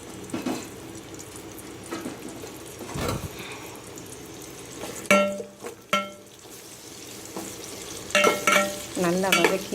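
Sliced large onions stir and sizzle in hot oil in a pan while cooking mutton biryani, with faint frying under scraping spoon strokes and clanks, plus brief bursts of running water.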